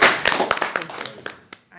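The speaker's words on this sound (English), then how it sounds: "You deserve, and the whole staff deserves a round of applause." Brief burst of hand clapping from a small group at a police chief search committee meeting, quick uneven claps fading out within two seconds.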